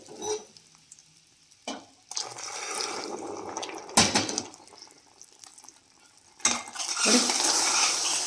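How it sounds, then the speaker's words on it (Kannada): Sugar syrup for a plum cake being stirred in a pan, a steady scraping swirl with a soft liquid sizzle, broken by a few sharp clinks of the utensil against the metal pan. "ಈ ಥರ ತಿರುಗಿಸ್ತಾನೆ ಇರಬೇಕು."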